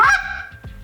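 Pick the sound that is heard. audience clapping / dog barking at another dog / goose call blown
goose call blown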